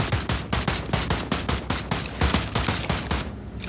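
Rapid bursts of automatic gunfire in a state-patrol role-play video game, dense and continuous volleys of shots close by for several seconds, tapering off at the end with no talking.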